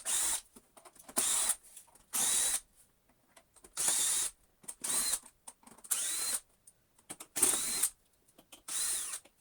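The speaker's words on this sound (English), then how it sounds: "All we're going to do now is have a look at the battery, which I think involves in moving all of these screws." A power screwdriver backs screws out of a Bissell Crosswave Cordless floor washer, running in short repeated whirring bursts with brief pauses between them, close and fairly quiet.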